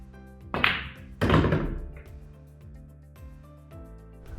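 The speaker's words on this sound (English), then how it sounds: "So just a stun shot, a bit below center." A pool cue strikes the cue ball low for a stun shot in a 9-ball game, giving two close, sharp knocks about half a second apart over a quiet tonal background.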